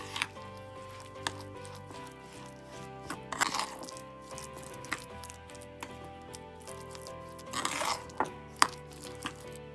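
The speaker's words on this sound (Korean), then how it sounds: "이제 양념을 고루 잘 섞어주세요." Seasoning paste of chili powder and pepper being mixed in a bowl for bean-sprout pork bulgogi, faint scattered clicks and taps over soft background music.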